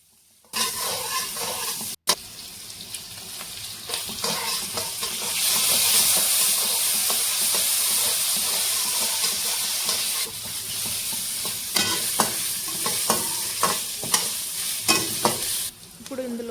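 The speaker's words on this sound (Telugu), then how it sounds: "ఇప్పుడు ఒక కడాయి పెట్టుకొని అందులో కొంచెం ఆయిల్ వేసి ఆనియన్స్ ఫ్రై చేసి అల్లం వెల్లుల్లి పేస్ట్ వేసుకోవాలి" Sliced onions and ginger garlic paste frying in oil in a kadai, a continuous bright sizzle with intermittent stirring scrapes and clinks, steady and close throughout.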